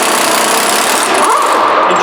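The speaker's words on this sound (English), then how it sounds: "Go ahead and bust that axle nut off of there." Impact wrench busting loose a 1.25-inch axle nut on a Ford Explorer during ball joint and control arm work, a loud continuous rattling hammer that runs steadily for about two seconds without voices.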